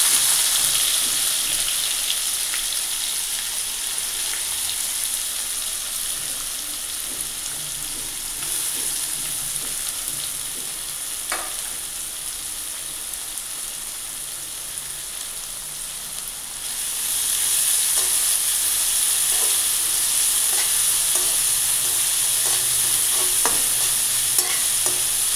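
Chopped onion with curry leaves fries in a hot pan, giving a continuous loud sizzle broken by occasional scrapes and clinks of stirring. The frying swells noticeably louder partway through, with no talking.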